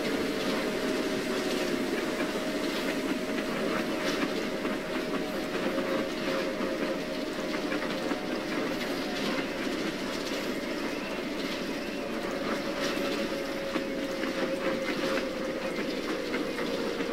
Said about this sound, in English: This has to be one of my favourite diesel shunters.